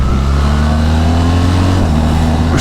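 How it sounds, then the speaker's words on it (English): A BMW R1300 GS motorcycle engine revs steadily and loudly up close, a sustained throaty drone with smooth rising pitch and no talking. "the engine almost feels as if it's running faster. It's revving freer"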